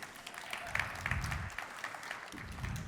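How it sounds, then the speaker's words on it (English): An audience at a pitch competition final applauds the jury, a soft, fairly distant patter of clapping that holds steady for about three seconds. "Round of applause for the jury."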